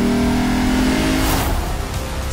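A Lexus RC F Track Edition with a lightweight titanium exhaust accelerates hard from a standstill, its engine roaring loud and close, then rising in pitch before easing slightly.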